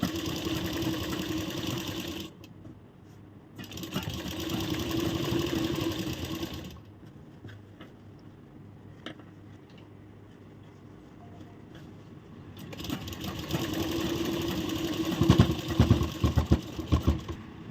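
A sewing machine stitches blouse fabric and its lining in bursts, running steadily for a few seconds, pausing, then starting again, with a quieter stretch in the middle and a louder, rattling run at the end.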